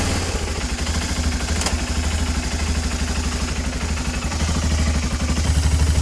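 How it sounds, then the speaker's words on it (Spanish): A motorcycle engine runs steadily in first gear with the rear wheel spinning, giving a close, even mechanical chugging and clatter that rises slightly toward the end, with no talking. "Encendemos la moto, metemos primera y la ponemos a rodar."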